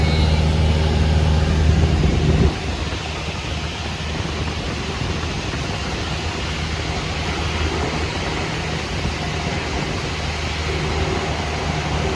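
Small training airplane's engine drones steadily in flight as the pilot adjusts power and throttle, a loud, constant cabin hum with a brief throttle change early on, then an even roar.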